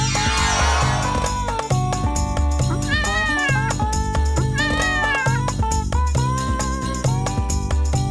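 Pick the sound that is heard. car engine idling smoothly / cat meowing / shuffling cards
cat meowing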